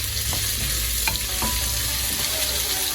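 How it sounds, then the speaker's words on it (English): Vegetables frying in a heavy-bottom pan for biryani, a steady close sizzle with a few soft scraping stir strokes scattered through, no talking. "Keep on stirring side by side."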